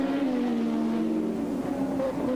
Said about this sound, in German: Das ist Philipp Streif im Tyrrell im Saugmotor.